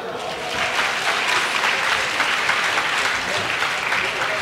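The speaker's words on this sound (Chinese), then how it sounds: "那大家再给赞助商一个掌声好不好？" Audience at a conference closing ceremony giving applause for the sponsors, a dense sustained roar of many hands clapping at once, steady and full from start to end, with no voice rising above it.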